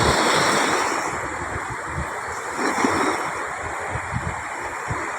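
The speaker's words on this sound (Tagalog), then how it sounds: "Kasi pag nagkakasimoy dito, malakas ang hangin" Strong wind at sea blows steadily over crashing surf, rushing and buffeting the microphone with low thumps.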